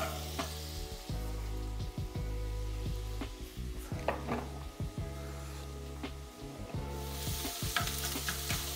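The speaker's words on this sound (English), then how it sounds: "So we'll cook this for a couple minutes. We brown on all sides." Meat for pasta browning in a hot pan, a loud continuous sizzle and frying crackle close up, with repeated scrapes and clatter of a utensil stirring and turning the pieces.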